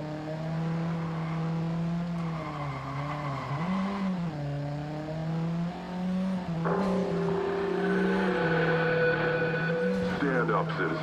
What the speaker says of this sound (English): Oh, nice drifting.